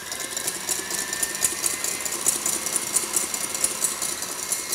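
An electric mixer beats a sabayon for a praline Yule log, giving a steady, busy mechanical whir with fine rattling that stays constant and fairly close throughout, with no talking.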